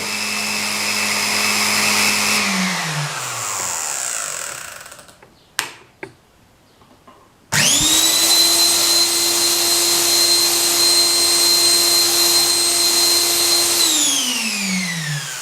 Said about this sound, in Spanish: El motor gira en este sentido, hacemos el cambio y el motor gira en el sentido contrario.